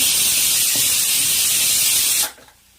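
Green chilli, ginger and curry leaves sizzle loudly in hot oil as turmeric goes in for a breadfruit and prawn curry, a bright steady hiss that cuts off abruptly near the end.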